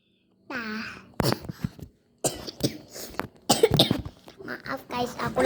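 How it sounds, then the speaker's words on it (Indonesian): A child coughs several times in short, harsh bursts, close by, with talking mixed in between the coughs. "aku lagi sakit guys, batuk"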